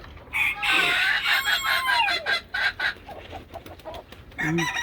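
Chickens cluck and squawk close by in loud, overlapping calls, busiest in the first three seconds, then softer scattered clucks, with one more call at the end.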